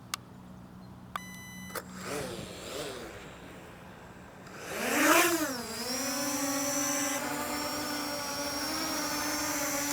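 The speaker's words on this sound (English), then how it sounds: "Click the little lock button, that will start our props turning, and then we can take off from there." Holy Stone HS720R drone propellers spinning up for takeoff outdoors, rising to a steady high-pitched whirring hum that holds after a short surge, preceded by a few faint clicks and beeps.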